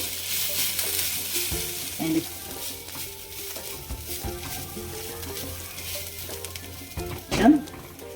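Capsicum thoran with dry coconut being stirred while it fries in a pan: a soft continuous sizzle with scraping stirs and occasional louder knocks of the spoon against the pan, close by.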